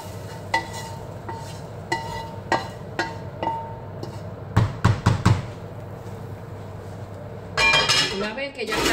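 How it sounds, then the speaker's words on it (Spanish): A cooking pot is shifted and ingredients dropped in, giving a series of close metallic clinks and knocks, a quick cluster of sharp taps, then a louder scraping, rustling stretch at the end. "Y ahora yo voy a pasar la olla más cerca de la cámara y voy a colocar todo dentro."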